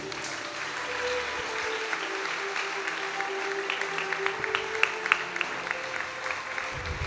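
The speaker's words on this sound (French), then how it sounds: "Acclamons pour Jésus." Applause from a crowd at a church gathering, sustained and moderately distant clapping with a few sharper claps standing out, continuing for several seconds.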